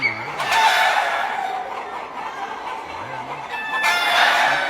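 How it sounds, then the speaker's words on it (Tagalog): Several chickens clucking and squawking nearby, busy overlapping calls with a couple of louder bursts, continuous throughout. "Ayan, manok, oh."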